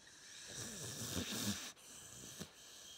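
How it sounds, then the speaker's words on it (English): A dog snoring with labored, heavy breathing, a steady raspy drone that swells and fades close to the microphone at home, loud and continuous with brief dips between breaths. "she snores and she has like a problem breathing"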